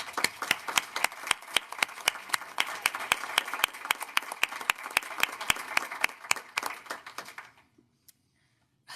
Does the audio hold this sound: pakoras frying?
no